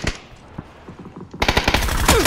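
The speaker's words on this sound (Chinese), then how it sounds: "船上有人，开枪。" Rapid bursts of automatic gunfire in PUBG, a squad ranked match, starting quieter and then turning loud and dense with sustained rattling shots.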